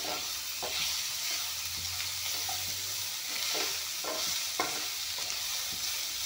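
Tomatoes and eggs frying together in a pan for an egg, tomato and capsicum dish: a steady, close sizzle with repeated scraping stirs, no voices.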